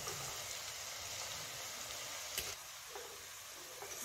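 Raw banana slices drop straight into hot oil and fry with a steady, dense hiss like light rain, moderately quiet throughout, with one sharp click midway.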